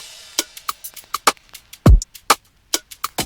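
Afrobeats drum pattern programmed in FL Studio: crisp, dry percussive hits in a bouncy syncopated rhythm, with one deep kick thump near the middle, loud and close with no talking.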